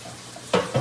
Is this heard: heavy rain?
no